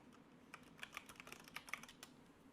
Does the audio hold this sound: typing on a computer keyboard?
yes